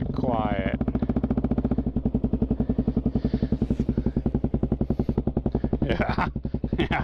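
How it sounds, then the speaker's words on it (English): Suzuki DRZ400SM motorcycle fitted with a loud MRD Z-PRO exhaust, a close single-cylinder engine thumping in a rapid, steady rhythm with a sharp rev at the end, a voice speaking briefly at the start. "That MRD is definitely not quiet."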